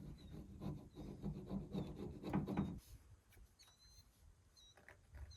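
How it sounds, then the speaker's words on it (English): Rough, rapid scraping strips an old gasket from a John Deere 750 tractor water pump, dense gritty strokes for a few seconds before it stops and only faint background remains. "We'll get this old gasket off of here."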